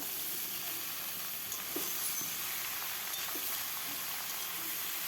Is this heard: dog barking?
no